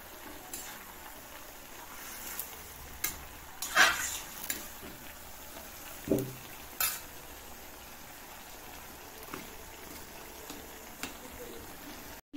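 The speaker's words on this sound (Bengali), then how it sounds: "তো এটা ভালো করে নাড়াচাড়া করে নেব।" A spoon stirs Malabar spinach stems with mustard paste in a pan, giving faint sizzling and a handful of scattered, soft scrapes and clinks against the metal, close and quiet.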